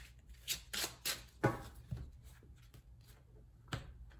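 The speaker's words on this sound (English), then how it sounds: "couple more shuffles in here." Tarot cards shuffled by hand, a quiet close-up run of crisp riffling flicks and soft slaps, several quick bursts and then a pause before a final flick, no voices.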